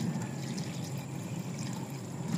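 Water poured as coolant into the radiator of a Suzuki APV gurgles and splashes in a steady, close, unbroken stream, with no talk over it.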